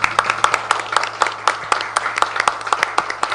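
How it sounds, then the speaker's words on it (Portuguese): An audience at a women's 8 March evening gathering bursts into brisk, dense clapping that runs steadily throughout, fairly close and loud, with no pauses. "E eu faço a questão aqui de puxar uma salva de palmas a todos vocês."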